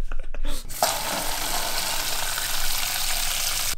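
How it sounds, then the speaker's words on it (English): Water running steadily into a small plastic bowl, a continuous splashing hiss that starts abruptly after a brief bump and carries on alone for several seconds. "we could just use this little plastic bowl here, put water in it"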